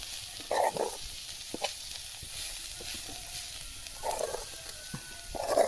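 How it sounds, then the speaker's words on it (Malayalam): Ground paste and cooked chopped spring onion stems are stirred in a hot pan, with a faint continuous sizzle and a few soft scrapes and taps from the spoon. "അരപ്പും ഈ അരിഞ്ഞ് വേവിച്ച് വെച്ച ഉള്ളിത്തണ്ടും കൂടി ഒന്ന് ഇളക്കി മിക്സാക്കി കൊടുക്കുക"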